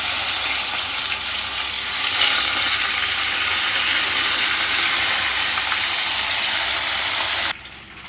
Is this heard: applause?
no